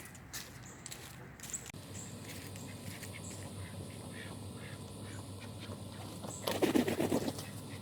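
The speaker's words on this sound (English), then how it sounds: "Good morning, ducks." Ducks quacking in a backyard coop in the morning, faint scattered calls under a steady ambient hum, with a louder burst of quacking close by near the end.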